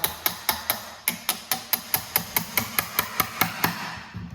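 A hammer strikes a wood chisel again and again, cutting a half-lap joint into a wooden beam for a batting cage. About sixteen sharp, evenly spaced knocks ring close and loud, the last few softening toward the end.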